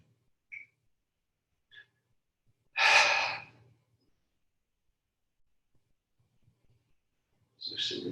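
Breathing during a gentle loosening and shaking warm-up exercise: a few soft, isolated breaths, one longer audible exhale in the middle and another breath near the end, quiet with silence between.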